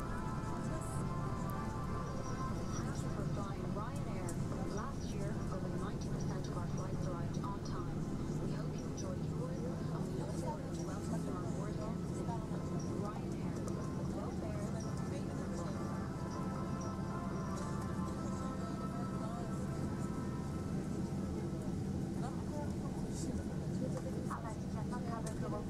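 Steady, low cabin rumble of a Ryanair Boeing 737-800 taxiing to the gate after landing at Kaunas, a continuous droning hum with a faint whine and rattles, unchanging in level throughout.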